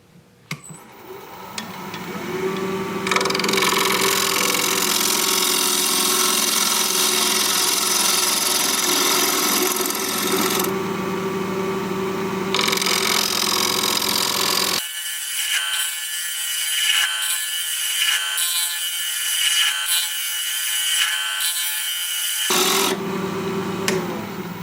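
A cracked wood blank spins on a lathe while a turning tool cuts and scrapes it, making a loud, continuous rasping hiss that thins and changes character partway through before the full scraping returns. No one speaks.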